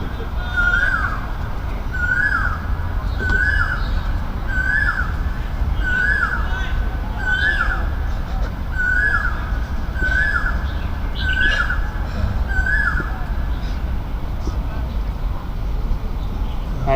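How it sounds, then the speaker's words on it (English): A cuckoo, the loud Hong Kong koel-type bird, calls repeatedly near a cricket ground, about ten rising whistled notes spaced evenly and fairly close, over steady crowd and commentary murmur. "the rare Hong Kong cuckoo"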